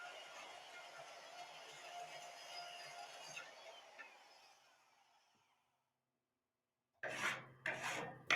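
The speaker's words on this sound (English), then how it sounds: "Use a file and sandpaper to remove any burrs." A file scrapes burrs off the cut end of a rotor blade in a close, soft, continuous rasp that fades out, then two short, louder rubbing strokes follow after a pause.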